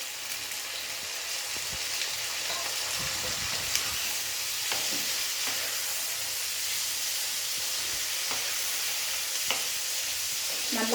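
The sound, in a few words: tomatoes and onions frying in pan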